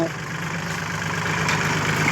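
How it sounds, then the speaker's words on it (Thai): An orange Kubota L36 tractor engine idles and chugs at close range while pushing soil, a low continuous rumble holding even throughout with no talking. "ดันดินด้วย รถไถ โคโบต้า สีส้ม รุ่น L36"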